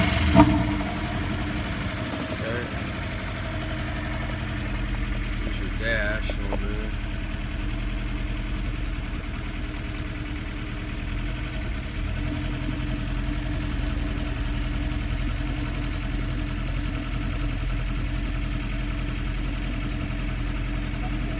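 A car engine cranks and catches with a brief rise at the start, then settles into a steady, fairly loud idle that runs unbroken throughout, with a few faint clicks and small noises from the cabin over it.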